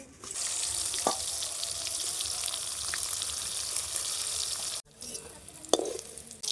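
Pointed gourd sizzles loudly in a hot pan with oil, a steady frying hiss that briefly cuts out before resuming, with a few soft utensil knocks.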